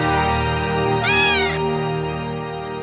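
A cartoon cat gives a single rising-and-falling meow, clear and close, standing out against a steady musical background and lasting about half a second.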